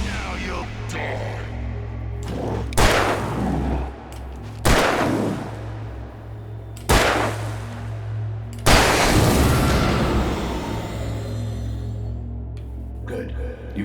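Gunshots in Alan Wake Remastered, four loud separate blasts spaced a couple of seconds apart, each with a sharp attack and a reverberant tail over a droning ambient hum.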